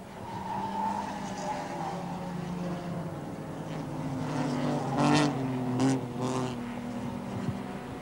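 A Mitsubishi Starion racing car with a front engine, rear-wheel drive and a live rear axle runs at Adelaide International Raceway in the 1984 Australian Super Series, its engine droning as the locked left front wheel skids, with short tyre-screech bursts near the end.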